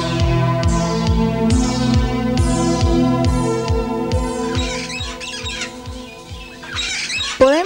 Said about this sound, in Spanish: un paseo al jardín de los pájaros tropicales, que exhibe especies de loros y otros pájaros exóticos